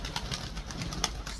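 Pigeons coo in soft, muffled bursts at close range, with a few brief flutters mixed into a low, steady background rumble; the calls are short and irregular and come without any voices.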